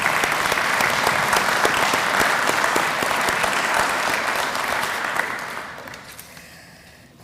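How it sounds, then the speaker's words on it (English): A crowd gives a big round of applause at a college School of Education graduation pinning ceremony, loud and dense for several seconds before tapering off at the end. "Let's give them one more big round of applause."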